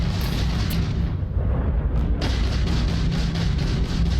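Incoming weapons fire and explosions in the video game Starfield, a dense, loud, continuous roar of booms and blasts with a brief dip before the barrage resumes.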